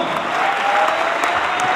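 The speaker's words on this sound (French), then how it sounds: "Encore plus d'applaudissements" Audience applause in a congress hall after a speech on digital business and entrepreneurship, a dense, even wash of clapping throughout with no talk over it.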